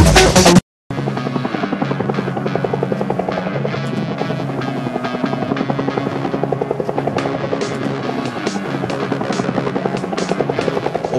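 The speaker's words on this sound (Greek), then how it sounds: "Ο πύργος δίνει έγκριση και τα ελικόπτερα απογειώνονται" Apache Longbow helicopters lift off after tower clearance, their rotors beating in a loud, steady rapid thump that continues without pause after a brief cut near the start.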